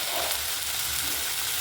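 Fish pieces frying in a pan of hot oil, a steady close crackling sizzle running unbroken throughout with no voices.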